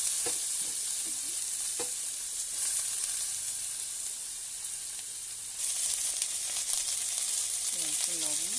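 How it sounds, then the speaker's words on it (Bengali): Cumin seeds and a bay leaf tempering in hot oil, sizzling quietly and steadily with a few spoon scrapes against the pan and a brighter burst of crackle partway through. "আমি জিরে আর একটা তেজপাতা ফোড়ন দিয়ে দিলাম।"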